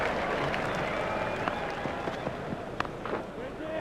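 Stadium crowd at a cricket ODI between Australia and Pakistan applauding and cheering a good shot, a steady broad roar of clapping and voices throughout, with a commentator talking over it.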